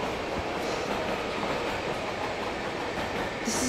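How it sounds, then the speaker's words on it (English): A train rumbles and clatters along the rails, a continuous close, rolling rush of wheels and carriage noise. "His train just took off!"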